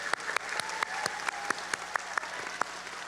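A school audience at a blue ribbon ceremony claps steadily, a dense patter of many hands with a few sharper individual claps standing out, fairly close and moderately loud.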